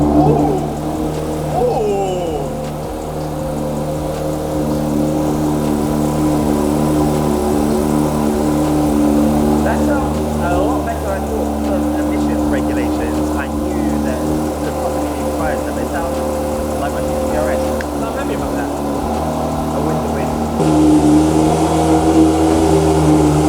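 A Porsche 911 GT3 Touring engine runs loud and steady close by, with rising revs and a throaty hum; voices talk over it.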